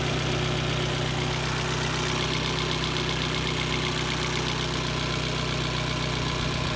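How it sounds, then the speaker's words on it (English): A Lexus GX 470 engine idles steadily, a continuous even rumble with a low hum throughout, close and fairly loud, with no talking. "But the engine seems to run okay."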